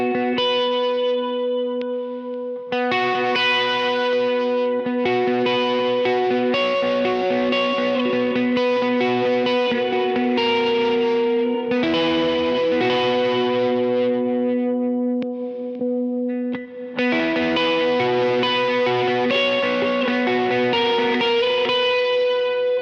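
An electric guitar plays through a pedalboard of effects with the Bloom and Morning Glory pedals switched off, producing sustained, shimmering chords with a chorus-like, echoing texture and a brief pause in the middle.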